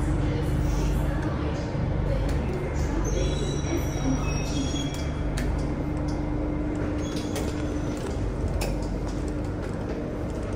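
A metro train pulls into a station on the line toward Harbourfront, with squealing wheels over a steady rumble of rail noise and a high-pitched screech. Background voices and station ambience run throughout.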